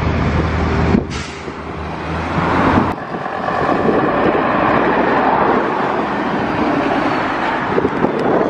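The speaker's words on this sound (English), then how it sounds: "And a Mark 1 MX-5." A Mark 1 Mazda MX-5 drives away from a car meet, a steady close engine and road noise under gusty wind, with a sharp knock partway through.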